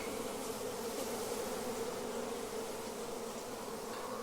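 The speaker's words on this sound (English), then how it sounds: "I'm going to shake these bees off in here" A dense, continuous hum of many wild bees buzzing close by as they are shaken off a comb, steady and unbroken with no voices.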